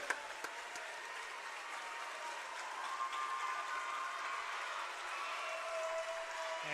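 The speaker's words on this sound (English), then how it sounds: "As they get a standing O from the home crowd." A home crowd at a school game rises in a standing ovation after a player's 1,000th career point, producing steady, sustained applause that sounds somewhat distant and fills the whole stretch at an even level.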